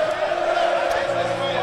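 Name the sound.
crowd cheering and singing traditional cheer song at presidential inauguration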